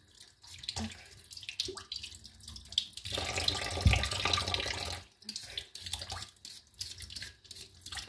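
Water runs from a kitchen tap during cooking, a steady splashing rush for a couple of seconds with softer trickles and drips around it, near and moderately loud, with no talk.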